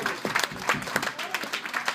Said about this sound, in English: Round of applause for the people who helped us out